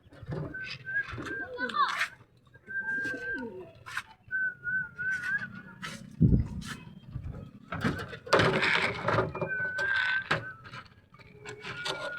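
A pigeon gives short, whistly cooing calls several times at close range, mixed with the knocks of handling and overlapping with people talking nearby.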